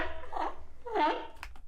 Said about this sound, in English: The seal sounds like this.